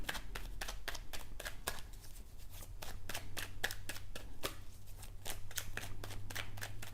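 Tarot cards are shuffled close up in a rapid run of crisp riffling snaps, steady and continuous, with a faint low hum underneath.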